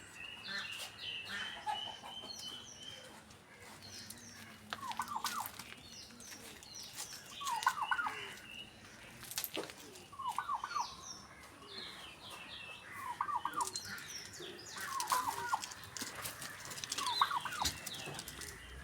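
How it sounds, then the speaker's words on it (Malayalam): Turkey gobbling in bursts at a farmyard among chickens and flying ducks, several short rippling calls repeating every couple of seconds over steady background bird chatter, moderately distant. "ഇതാണ് ടർക്കി കോഴി"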